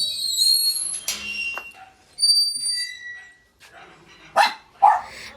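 A dog barks in a few sharp bursts with pauses between, near and fairly loud, with some whistling tones in the background.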